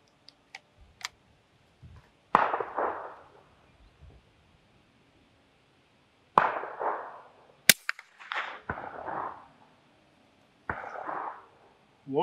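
Sharp, isolated gunshot cracks from Eley high velocity rounds fired supersonic over a chronograph, several separate loud reports spaced seconds apart with quiet gaps and faint clicks between them.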